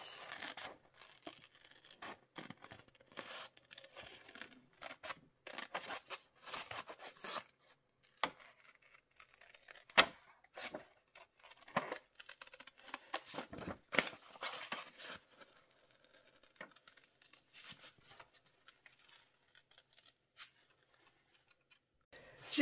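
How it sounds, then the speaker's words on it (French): Scissors snipping paper flowers at a craft table, a run of close, irregular cuts and rustling paper with short pauses between bursts, fairly quiet throughout. "J'ai choisi ces fleurs et c'est parti. Je vais m'amuser à les découper."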